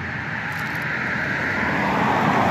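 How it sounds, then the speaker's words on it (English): Cars pass on a road beside an allotment garden in January after days of rain, a loud, continuous rushing roar that swells slightly toward the end. "A lot of cars, forgive the noise."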